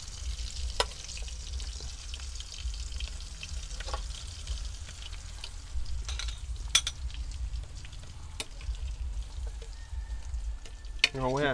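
Food sizzles and fries steadily in a pan while cooking crab and snail noodle soup, with occasional utensil clicks and stirring and a few faint voices in the background.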